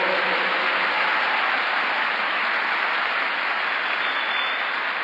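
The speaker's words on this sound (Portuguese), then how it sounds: "Dá um aplauso bem forte ao Senhor" A church congregation at a Sunday service breaks into strong applause, a continuous, loud roar of massed clapping filling the room from start to finish, with no speech over it.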